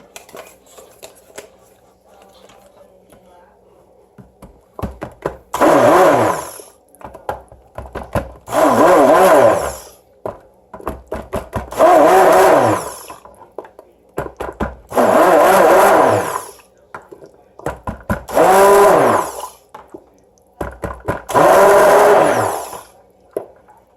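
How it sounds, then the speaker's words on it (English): A stick blender whirs in six short bursts of about a second and a half each while mixing soap batter, separated by brief pauses, loud and close. "I'll use my stick blender to help it along"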